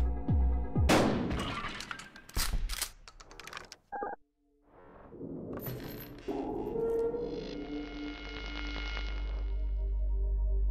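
A sawed-off shotgun blasts loudly in the video game Buckshot Roulette, followed by clicks and mechanical clatter, a brief near-silence, then tonal game sounds and a rising drone.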